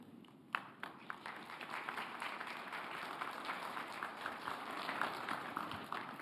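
Journalists applaud after a presidential speech at a press conference marking a South Korean president's 100 days in office, a steady wash of light clapping from a roomful of people that runs the whole stretch with no talking.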